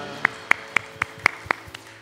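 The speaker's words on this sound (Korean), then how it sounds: "우리 주님께 감사와 영광의 박수 올려드리겠습니다" A church congregation at a Sunday worship service claps in steady unison, about seven sharp, evenly spaced beats at a brisk pace, moderately quiet with a faint background hum.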